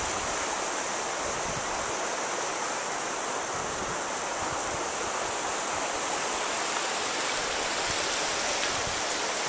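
The White River near Enumclaw, Washington rushes and burbles continuously, a loud, even wash of flowing water with no voices.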